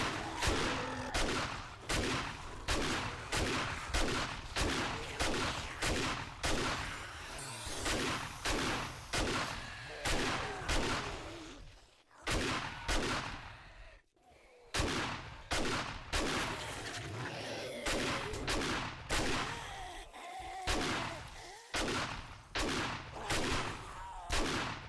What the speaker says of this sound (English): More machine guns.